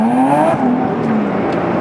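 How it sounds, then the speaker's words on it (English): A supercharged Nissan 370Z engine on full throttle, a loud close whining roar that holds high and then eases slightly in pitch over under two seconds. "It just kind of revved way up."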